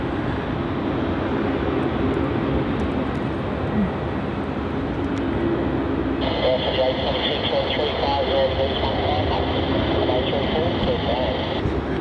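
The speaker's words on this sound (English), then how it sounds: "This is a Qantas flight QF 1988 off to Townsville," A Qantas Embraer E190 jet at Melbourne Airport gives a sustained broadband roar that thickens and takes on a tonal whine midway, with voices talking over it.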